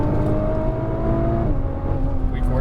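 A Nissan GTR engine revs steadily under throttle, a loud continuous drone with harmonic tones rising slightly, sustained throughout without pause.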